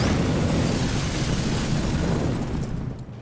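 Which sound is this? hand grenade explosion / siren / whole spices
hand grenade explosion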